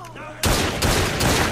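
Pistol gunfire in the video game Assassin's Creed Syndicate erupts after a brief quiet moment, a loud dense burst of overlapping shots sustained for over a second, with voices mixed in.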